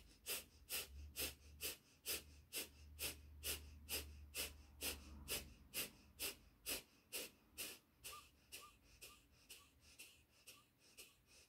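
Rapid, forceful Kapalabhati pranayama exhalations through the nose, a long even series of sharp breath bursts about two per second, close and clear, slowing slightly toward the end.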